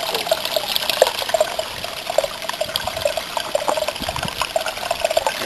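Water rushes fast through a gold concentrator, a steady, close, loud flow with splashing and gurgling throughout, no voices.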